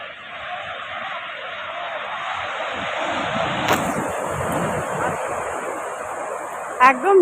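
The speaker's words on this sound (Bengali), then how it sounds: "জোয়ার আসছে দেখো" Sea waves rolling in at high tide at night on Puri beach: a continuous, even wash of surf with a faint hiss, a brief sharp click midway and soft knocks near the end.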